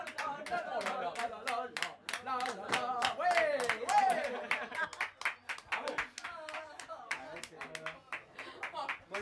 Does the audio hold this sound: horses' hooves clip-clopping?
no